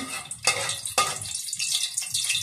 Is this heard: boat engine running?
no